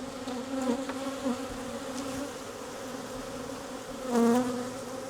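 Bees hum inside a hive in a steady, low drone, a dense buzzing that swells briefly louder as individual insects pass close.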